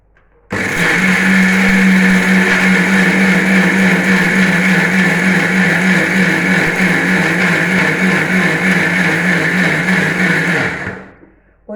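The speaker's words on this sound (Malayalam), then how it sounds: "ഇനി ഇത് അരയ്ക്കട്ടെ." A mixer grinder grinds breakfast batter with salt and curry leaves, making a loud, steady whirring roar. It starts abruptly, holds for about ten seconds, then winds down and stops.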